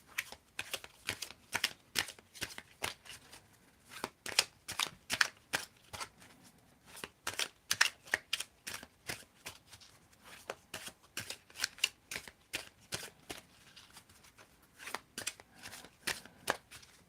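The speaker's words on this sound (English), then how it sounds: "If you're still there, tell me when to stop shuffling." A deck of playing cards is shuffled repeatedly, giving sharp riffling bursts with short pauses between them, close and clear with no talking.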